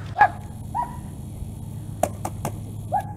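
A dog on a home porch in Mississippi barks a few times at a distance. The sharp, separate barks stand out against a quiet, steady background.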